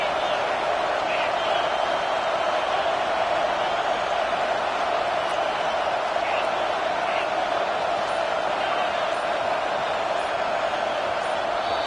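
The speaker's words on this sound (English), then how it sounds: "Listen to this crowd just shaking the girders of this place" Roaring stadium crowd in the NCAA 25 college football video game, a dense, loud, sustained wall of cheering that holds steady throughout with no letup.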